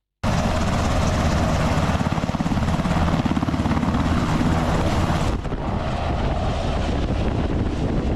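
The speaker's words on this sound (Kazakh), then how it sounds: "Бұл әскери тікұшақ." A military helicopter's rotor beats in fast, even pulses over a loud, continuous engine roar. The sound stays close and constant, then drops slightly in level near the end.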